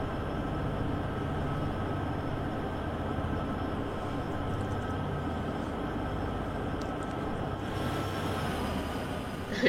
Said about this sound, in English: Can we open the cab window to hear the thrash?